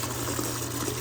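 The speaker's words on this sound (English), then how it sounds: "So I'm just going to kind of give it a gentle rinse in here." Vintage jewelry gets a gentle rinse in water, heard as a continuous close rush of flowing, splashing liquid without pauses or speech.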